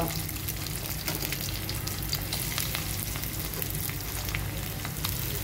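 Oil with mustard seeds, cumin and onion frying in a pan for a tothakura pappu, a loud dense continuous sizzle with fine popping crackle throughout, heard close and alone.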